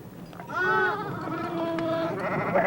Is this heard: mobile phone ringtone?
no